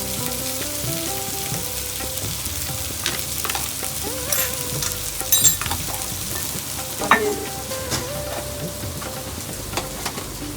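Sesame seeds frying in a pan for a bitter gourd spice powder, with a steady crackling sizzle and repeated scraping of a spoon stirring, plus a few sharp clinks, close and without talk.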